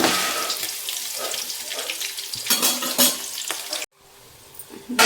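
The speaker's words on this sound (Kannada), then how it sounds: "ಈಗ ಒಂದು ಸ್ವಲ್ಪ ಈರುಳ್ಳಿ ಹಾಕ್ಕೊತೀನಿ. ಈಗ ಚೆನ್ನಾಗಿ ಮಿಕ್ಸ್ ಮಾಡ್ಕೋಬೇಕು." Onions stirred into hot oil with curry leaves, a steady close hiss of frying with scraping and splashy spoon movements, briefly cutting out near the end before resuming.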